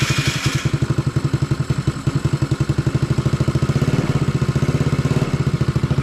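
A 2016 Maddog scooter, a Honda Ruckus clone freshly fitted with a big bore kit, runs close and loud with a steady rapid single-cylinder putter and a clattery mechanical edge, holding a fairly even idle throughout.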